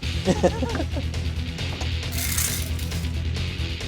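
A ratchet wrench rapidly cranking out hinge bolts on a 1978 El Camino, with quick clicking pawl bursts and metallic clinks close by, mixed with shop background noise.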